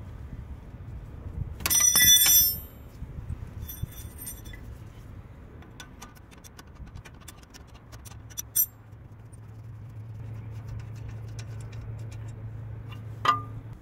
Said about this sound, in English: Using two spanners, 13 and 17 mm, unscrew the bolts holding the guide rods of the caliper